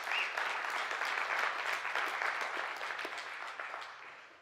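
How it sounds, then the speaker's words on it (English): Steady applause from a large church congregation at a weekend service, sustained and even before slowly tapering off. "I want you to respond sometime by giving me a hearty applause."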